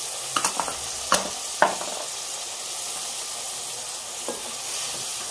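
Mutton frying with crushed chillies, crushed coriander and salt for palak gosht gives a steady close sizzle, broken by a few sharp scrapes of a stirring spoon near the start.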